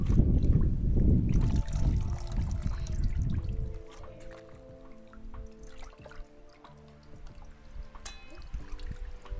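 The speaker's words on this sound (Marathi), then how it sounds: "तर पहिले आता आपण भाजी धुवून घेऊ चांगलं स्वच्छ पाण्याने" Tender pumpkin leaf stalks being washed by hand in clean water, with busy splashing and sloshing for a few seconds, then quieter drips and trickles as the stalks are lifted out, close by and without talk.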